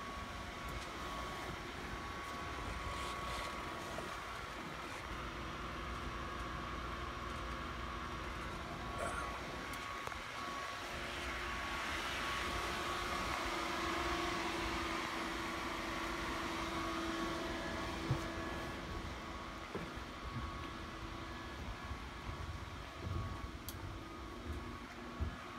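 Jenbacher 620 20-cylinder natural gas engine running in a power plant, a steady, dense mechanical roar with a constant hum, heard from nearby and unbroken throughout, with faint occasional clicks.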